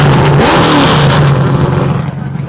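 A V8 hill climb race car revs hard in a busy pit lane at the Simola Hill Climb, its deep engine note rising and falling loud and close, with more engine noise and a faint voice behind it.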